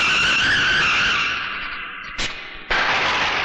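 A scooter skids to a stop in a Hindi action movie scene, a long loud tire screech that fades, then two abrupt sharp bursts of noise close by, with no talk.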